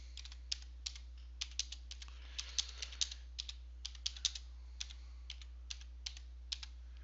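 Light, steady keystrokes on a computer keyboard as a macro description is typed into a spreadsheet program, with irregular quick clicks over a quiet room hum.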